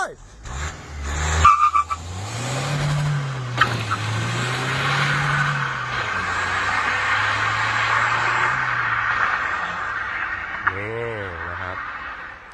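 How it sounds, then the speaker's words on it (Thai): A lowered car launches in first gear and accelerates, with the engine note rising and holding under a brief tire chirp, then a gear change and further revving close by, while a voice speaks over the start. "เดี๋ยวลองวิ่งกันดูครับ เบรกมือลง ใส่เกียร์หนึ่ง พร้อมแล้ว ไป"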